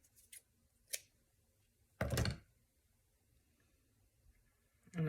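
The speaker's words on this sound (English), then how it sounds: "this is the coffee dyed cheesecloth. I think I'll just use a little snip of that" Scissors snip through coffee-dyed cheesecloth in a few short, crisp cuts, one strong close snip standing out between lighter clicks and a final cut at the end, with no talk over them.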